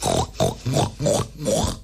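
A voice imitates a pig, grunting and oinking in five short rhythmic bursts, close and clear.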